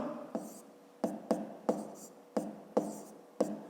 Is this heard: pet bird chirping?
no